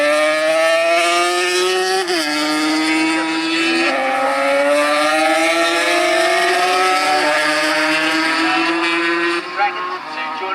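Racing motorcycles in a GP Originals race at Snetterton circuit scream past with loud, high-revving engine notes. The pitch rises and falls through gear changes, and the roar continues steadily throughout.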